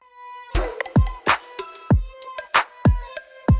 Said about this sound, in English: it has that vocal chop type of thing, and it's very dry